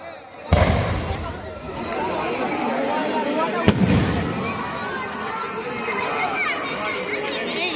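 Fireworks burst over a night sky during a Bengali festival display, with a sharp loud blast followed by a sustained crackling barrage and a second bang a few seconds later, under an excited crowd and a commentator's voice.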